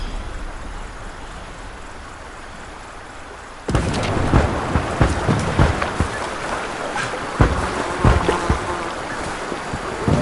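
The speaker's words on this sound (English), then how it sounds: "Enter the boat and start the engine." A boat engine in Hell Let Loose Vietnam starts abruptly after quiet ambience, then runs loudly and close with irregular knocks and surges over a rough, churning drone.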